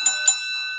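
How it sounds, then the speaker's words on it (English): An opening bell sound effect on a wrestling show rings twice in quick succession, two bright metallic strikes whose tones hang and fade, with no talk over it. "There we go. Opening bell."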